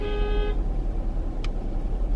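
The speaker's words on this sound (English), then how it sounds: "I guess somebody got their alarm" A car horn or alarm blares briefly at the start, a steady harmonic tone over a low rumble of traffic and road noise, then cuts off, leaving the background drone and a short high chirp.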